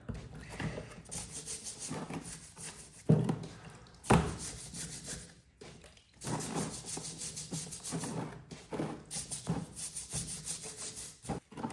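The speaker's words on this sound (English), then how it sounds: "So we'll give this a scrub." A brush scrubs a grimy water pump in bursts of close, raspy rubbing strokes, with short pauses and a couple of sharp knocks between the scrubbing passes.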